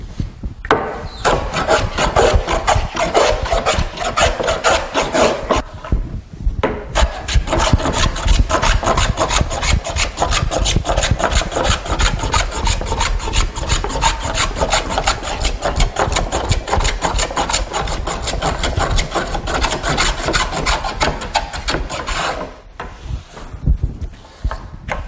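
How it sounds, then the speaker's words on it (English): Hand work with a jack plane on wood: a long run of rapid, rhythmic rasping strokes, loud and close, with a brief pause partway through and no talk. "here today we're going to show a jack plane in use."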